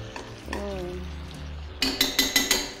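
Rice in a pot of rice pudding gets a light stir with a spoon still coated in meat juices, with several quick, near scraping clinks near the end after a quieter stretch of low kitchen hum.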